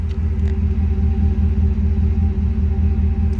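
A deep, steady engine exhaust rumble from an idling 2013 Ford F-150 Raptor SVT pickup truck, loud and close, holding an even low throb throughout.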